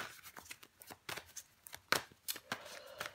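Tarot cards are shuffled, flipped and laid down in a series of crisp, close flicks and snaps, an irregular run of light papery slaps with no talk.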